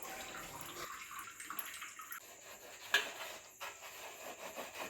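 An old dirty vessel is scrubbed with powder and a little water, giving a steady, fairly faint rasping rub with short bursts of stronger strokes and one sharp knock midway.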